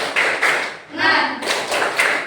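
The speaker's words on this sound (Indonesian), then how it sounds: "Yuk, tepuk semangat." A classroom of pupils in an Islamic studies lesson performs the rhythmic 'tepuk semangat' clapping chant, with close, loud bursts of claps in short groups and voices chanting between them.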